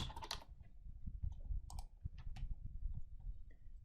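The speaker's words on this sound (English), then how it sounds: "So once I've typed in my message" Quick, irregular clicking of keys on a computer keyboard as a message is typed, close and fairly quiet, with short pauses between bursts of keystrokes and no talking.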